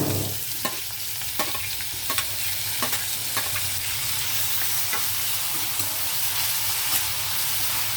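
Onions and tomatoes fry together in a pan for a meal maker dum biryani, giving a loud, even sizzle with a handful of spatula scrapes spaced through it.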